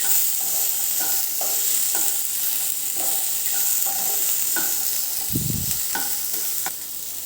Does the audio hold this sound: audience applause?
no